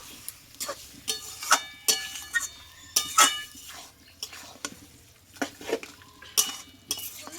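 Mutton is stirred and sautéed in a pot with a metal spoon, making uneven clinks and scrapes against the metal over a faint simmer. The spoon sounds come in irregular bursts, close and moderately loud, with no talking.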